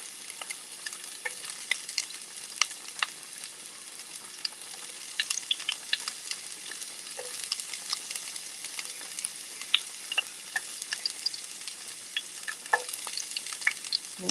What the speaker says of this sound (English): Okay, so my green peppers and onions are in. I'm gonna stir that real quick